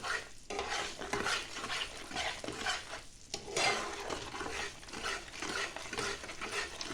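A besan (gram flour) mixture for laddu is stirred continuously in a hot pan, producing rhythmic, close scraping and soft sizzling strokes with brief pauses between passes.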